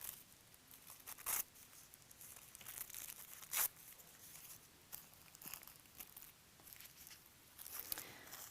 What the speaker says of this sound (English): even from the edge of the tissue paper. You can just tear that off.